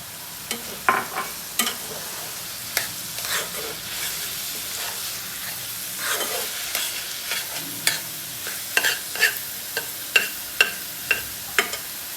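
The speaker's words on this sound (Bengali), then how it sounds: "এখন এর মাঝখানে আমি ডিমটা দিয়ে দিলাম" An egg fries in the middle of a vegetable fry in oil, a steady close sizzle and hiss broken by frequent sharp spatters and pops, scattered irregularly and growing denser toward the end.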